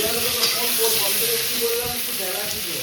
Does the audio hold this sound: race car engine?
no